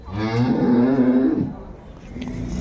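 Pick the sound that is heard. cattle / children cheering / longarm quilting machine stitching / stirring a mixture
cattle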